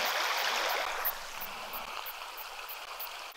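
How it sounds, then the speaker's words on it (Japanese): The Hamilton Burn, a small New Zealand river running low, flows with a steady, close rushing hiss and no voices. "ハミルトンバーンっていう小さな川に来ました"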